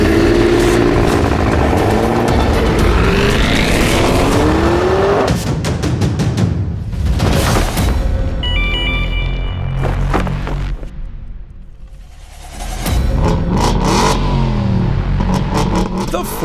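A Ford F-150 Raptor R's engine revs hard and accelerates in loud, rising surges with gear-change breaks and a brief quieter lull, mixed with music-like sounds and some voice.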